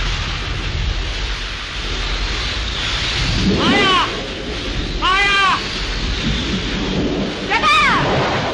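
A thunderstorm in a 1937 Hindi film scene: a steady, close hiss of heavy rain under low rolling rumbles, with three whistling gusts of wind that rise and fall.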